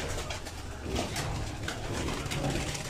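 Soft, repeated cooing of a diamond dove over a hissy background, low and gentle calls close by.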